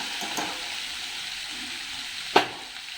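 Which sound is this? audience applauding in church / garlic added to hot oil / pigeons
garlic added to hot oil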